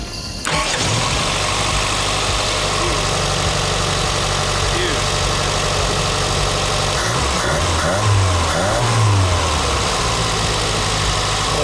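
A 1984 Chrysler LeBaron with a 2.6 engine and Mikuni carburetor fires up on a hot start after a brief crank, settles into a rough idle, then revs up a couple of times near the end, close by.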